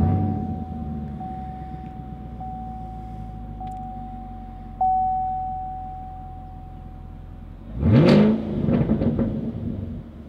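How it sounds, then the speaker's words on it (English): A 2016 Chevrolet Camaro 2SS V8 cranks and fires up near the end with a loud rising roar that settles into a rumbling idle, following a quiet interior stretch of electronic chimes. "instead of using the remote start, to start the vehicle, you just put your foot on the brake,"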